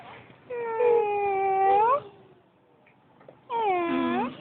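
A cat in heat gives two long, drawn-out meows close by at Central Luzon State University in the Philippines, the second after a short pause, with faint background noise between them.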